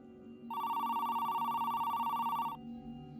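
A telephone rings once, a loud electronic trilling ring lasting about two seconds over a low steady background hum.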